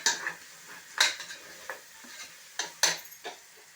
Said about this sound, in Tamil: ஆனியனும் இஞ்சி பூண்டு பேஸ்ட்டும் கொஞ்சம் செவந்து வந்துருச்சு இப்போ டொமேட்டோ சேர்க்குறேன்